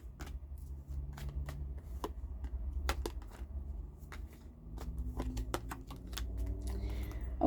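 Emotion oracle cards being shuffled by hand, a quiet close series of crisp riffling snaps and soft slides in irregular bursts, with no talking.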